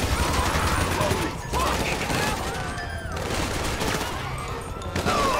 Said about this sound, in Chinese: 扫射，快点扫射！